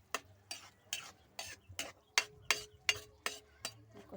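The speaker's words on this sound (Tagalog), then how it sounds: "Ako siyang igisa kadali ang pork ginaling." Ground pork sautéing in a pan with a spatula, about ten sharp rhythmic scraping strokes over a faint sizzle, fairly close.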